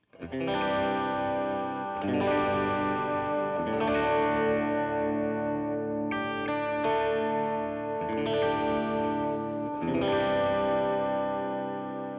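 An electric guitar through a clean signal chain on a budget pedalboard rings out a series of strummed chords, each left to sustain and decay before the next, with a shimmering, slightly wet tone and no voices.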